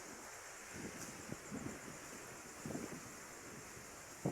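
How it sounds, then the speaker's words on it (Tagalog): Strong wind rushes steadily against the microphone, a constant roaring hiss with a few gusty buffets and bumps. "Ang lakas ng hangin."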